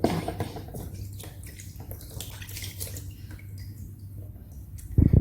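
Water splashes and trickles as feet are washed during a home pedicure, a close, moderate wet sloshing that ends in a louder burst of splashing.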